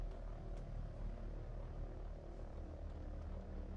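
Small, twitchy light airplane engine in a VR flight simulator game, a steady continuous propeller drone holding at an even level for the whole stretch, with no talking.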